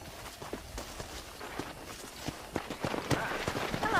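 Horse hooves clip-clop in the Red Dead Redemption video game, a steady run of sharp hoofbeats that grows denser and louder toward the end, with faint game sounds underneath.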